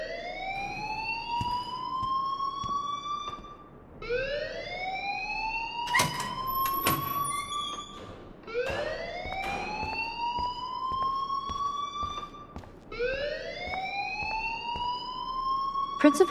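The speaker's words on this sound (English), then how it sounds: "please turn off that alarm since that's your job" A repeating electronic alarm from the video game Life Is Strange, rising wails that sweep upward in cycles about every four seconds, loud and continuous, with a few sharp clicks between the sweeps.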